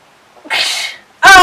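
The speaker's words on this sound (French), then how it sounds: "J'ai cru que j'allais éternuer" Single loud, close sneeze with a sharp inhaled build-up before it, followed by an abrupt vocal burst at the end.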